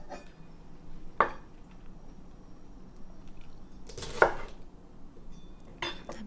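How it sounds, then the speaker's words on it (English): A knife slices through the stems of six green onions on a kitchen board: three sharp, isolated cuts spaced a few seconds apart, close and fairly quiet, with soft background noise between them and no voices. "First off, I cut off all the stems."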